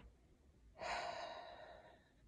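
A single slow, deep inhale starts abruptly and trails off into a long, airy breath, close and fairly loud with no talking.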